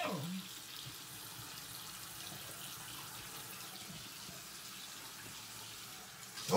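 A bathroom tap runs steadily while someone washes their face, a soft continuous hiss of flowing water that stays faint and even throughout, with no talking.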